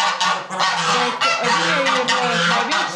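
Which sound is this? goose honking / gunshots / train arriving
goose honking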